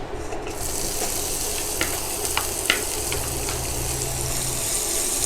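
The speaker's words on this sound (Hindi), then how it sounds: "अब इसमें हम एक बारीक कटा हुआ प्याज डालेंगे" Finely chopped onion hisses and sizzles steadily in hot oil with asafoetida in a pan, a dense broadband frying noise with a few soft stirring clicks, no voices.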